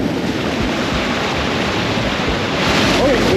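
Rushing water roars in a steady broadband wash at the top of a waterfall in Newry, Maine, loud and close, with wind buffeting mixed in.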